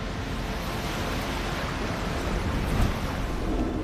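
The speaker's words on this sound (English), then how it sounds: "sit on the beach, listen to the waves" Ocean surf breaks on an island beach, a steady, full rush of water with a swell near the end and wind buffeting the microphone, no voices present.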